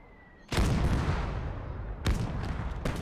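Artillery fires in a battle video game, with a deep booming blast followed by a rolling rumble and then two more heavy shots in quick succession.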